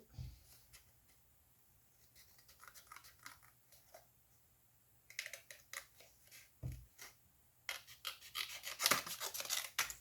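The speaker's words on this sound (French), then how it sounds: "je viens couper" Scissors cut a paper birth card with quiet, close snips and rustling, in sparse clusters that grow denser toward the end.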